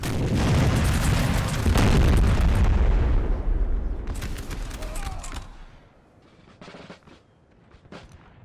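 Musket volleys and booming battlefield gunfire from the Napoleon Total War video game, a dense loud roar of shots that gradually thins into a few scattered distant cracks.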